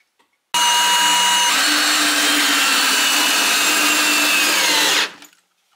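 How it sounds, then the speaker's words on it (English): Power drill driving a screw into a plywood shower pan layer: one sustained loud motor whine lasting about four and a half seconds, starting abruptly and winding down at the end, close and alone. "I'll nail or screw the first layer down, and then add more glue and then more screws"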